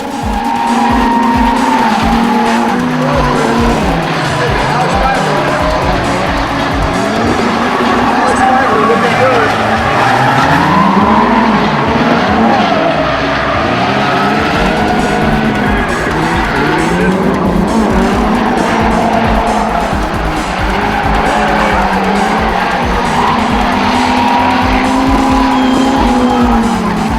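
Drift cars battling side by side in a competition heat, engines roaring and wavering continuously with tire squeal and skidding as one car carries too much angle and spins out, under commentary throughout.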